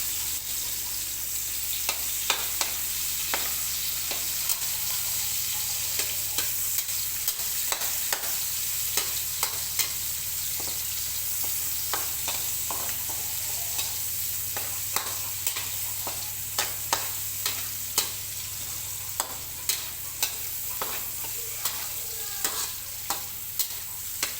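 Chopped garlic and onions sautéing in a pan for a tofu dish, a spatula clicking and scraping in frequent quick strokes over a constant close sizzle, with no voices.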